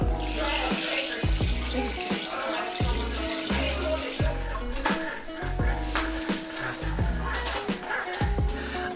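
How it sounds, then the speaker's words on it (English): Chilled beer wort for a hazy IPA glugs and splashes steadily as it pours into a fermenting carboy, with loud, rhythmic gurgling surges running continuously throughout. "The last part is taking the chilled wort and pouring it into the carboy to ferment"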